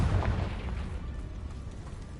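A Confringo explosion spell going off in a Harry Potter video game, a low rumbling blast with a burst at the start that fades into a steady dull roar, moderately loud and with no talk over it.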